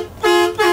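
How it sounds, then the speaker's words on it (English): Two short, loud air horn blasts in quick succession on a 2003 Alfa See Ya 36FD motorhome, the second following right after the first, sounding close by. "Air horn"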